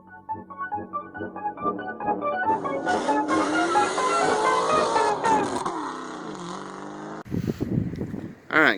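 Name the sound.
failing AC compressor racket on SN95 Ford Mustang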